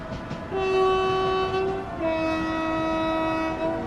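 Class 7110 train in Train Sim World 4, its horn sounding two long sustained blasts at slightly different pitches over the steady rumble of the running train, close and loud.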